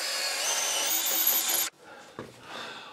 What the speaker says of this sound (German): damit kann ich dann hier hineinbohren